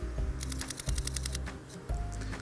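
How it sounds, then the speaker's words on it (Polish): Rapid mechanical shutter burst from an Olympus OM-D E-M5 Mark II mirrorless camera at about 10 frames per second, a close string of roughly ten crisp clicks followed by a few single clicks. "Zobaczcie, jak to wygląda w trybie migawki mechanicznej."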